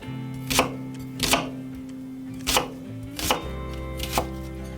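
A knife cuts a small new onion into wedges on a board: five distinct chopping knocks at a slow, uneven pace, close and clear with no talking.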